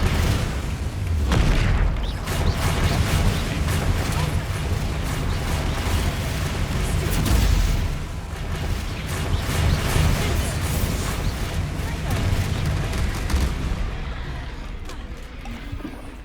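Bombarda spell explosions in Hogwarts Legacy boom and rumble almost without pause, loud and close, with heavy low blasts layered into a dense, continuous barrage.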